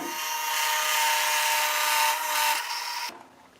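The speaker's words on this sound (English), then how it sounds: "We're going to drill those out and put plugs in there too." A power drill whirs loudly and steadily while boring into the wood of a Gretsch guitar under restoration, with a gritty rubbing texture, then cuts off abruptly near the end.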